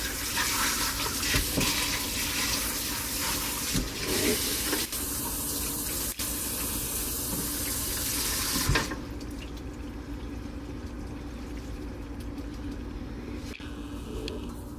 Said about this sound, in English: I won't be able to rinse it off as good until I cut it in half